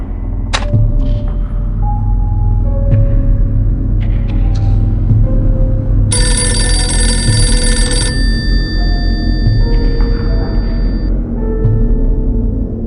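Telephone ringing in Dracula 3, a bright electronic trill that comes in mid-clip and holds for a couple of seconds over a low rumbling ambience, with softer tonal chimes scattered around it.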